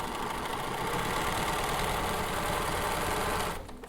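A sewing machine runs continuously at high speed while stitching a jeans hem, a close, steady mechanical whir and rapid needle chatter that stops abruptly near the end, with no talking.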